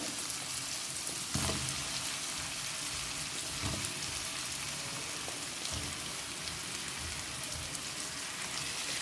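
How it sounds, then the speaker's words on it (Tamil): Cut radish pieces sautéing in hot oil for a South Indian radish sambar, a steady, dense sizzle with a few louder crackles and spits throughout, no voices. "இந்த காயை வந்து நம்ம நல்லா எண்ணெயில் வதக்கிக்கணும்."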